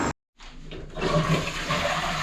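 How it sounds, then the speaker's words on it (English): A toilet in a newly fitted cloakroom flushes, a brief click and silence giving way to a loud rushing gush of water that stays steady and close, with no speech. "I'm sure you've seen the toilet flushing before"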